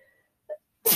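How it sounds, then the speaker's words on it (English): A single short sneeze bursts out at the end after a faint intake of breath, close and fairly quiet, in a quiet room during a cross-stitching chat. "Oh no, I might have to sneeze."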